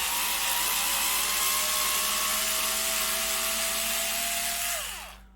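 Panasonic/Milwaukee Professional Classic 2-speed electric screwdriver running at speed, a loud steady high-pitched motor whine that holds for several seconds, then winds down and stops near the end.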